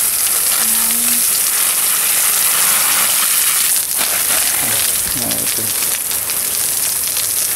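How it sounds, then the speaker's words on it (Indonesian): Water from a garden hose sprays steadily onto potted aloe vera plants behind a greenhouse, a constant loud hiss with brief voices talking over it. "siram lidah buaya itu di belakang greenhouse. Disiram pakai selangnya."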